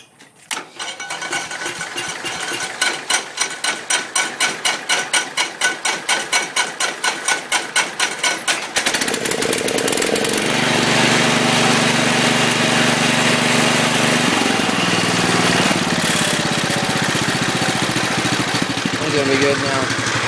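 A Cub tractor engine cold-starting after being run out of gas, with a series of rhythmic cranking chugs before it catches, then settling into a loud steady idle close by.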